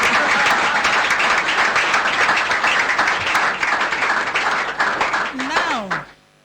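A studio audience at a live talk programme breaks into sustained, dense clapping that fills the room before fading out, with voices mixed in.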